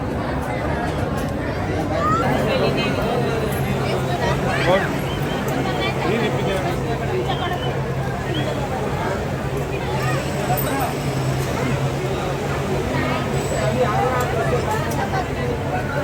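Steady murmur of a large crowd packed into a temple queue at Tuljapur, many voices overlapping close by with a low constant hum beneath the chatter.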